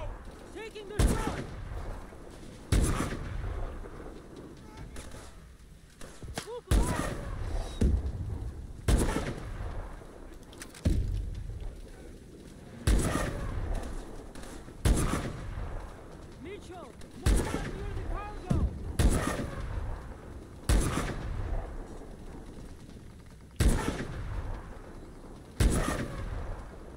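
Repeated gunshots in Call of Duty: Advanced Warfare during an Antarctic chemical cargo operation, loud close cracks at irregular intervals every second or two over a steady combat backdrop, with occasional voices between shots.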